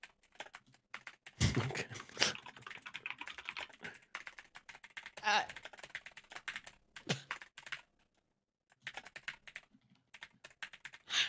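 Fast typing on a computer keyboard while playing Gartic Phone, dense bursts of close key clicks with brief pauses and a louder clack or two, and one short spoken word.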